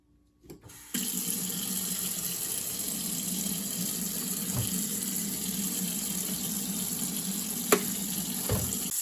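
Tap water runs steadily into a sink while a corned beef brisket is rinsed, a close continuous splashing rush that starts abruptly after a second of quiet, with a few faint knocks beneath it.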